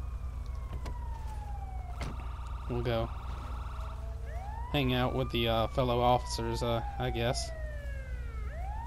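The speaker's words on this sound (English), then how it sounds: "here comes the ambulance." A wailing ambulance siren in the GTA 5 police roleplay game sweeps up and down continuously at moderate distance, with someone talking over it and other emergency siren tones layered in.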